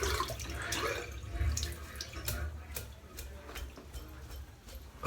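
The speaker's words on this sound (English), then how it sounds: "I've got to get all the soap out of the brush" A shaving brush is rinsed of soap under a running tap, giving a steady close splashing of water with small drips and taps against the sink, ending on a slightly louder splash.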